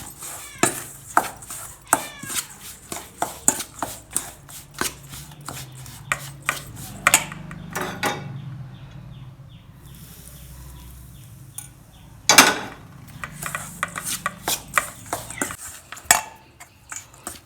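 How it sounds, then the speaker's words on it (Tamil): Spoon scraping and clanking against a metal pan while green gram ladoo mixture with ghee is stirred, a busy run of sharp close clicks and scrapes with a quieter stretch midway. "இதை நல்லா இது மாதிரி கிண்டி எடுத்துக்கோங்க"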